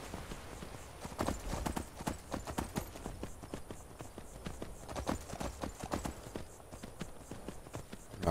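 Horse hooves clip-clop in a steady, quick rhythm, loud and close, continuing for several seconds with faint background noise, from the modded video game Skyrim.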